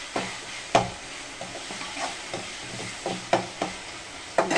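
Tomatoes sautéing in a pan for keerai kootu, with a soft, steady sizzle broken by several sharp stirring scrapes and clatters of a utensil against the pan, close by with no voices.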